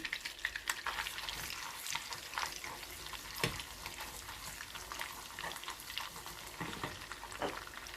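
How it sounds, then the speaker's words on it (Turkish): A spoonful of tomato paste sizzling in melted butter, with a dense, steady crackle and frequent sharp pops and spits, close and moderately quiet with occasional stirring scrapes and no talking. "Eriyen tereyağımın içine bir tatlı kaşığı domates salçası ekliyorum."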